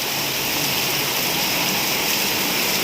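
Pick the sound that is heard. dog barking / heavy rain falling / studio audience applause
heavy rain falling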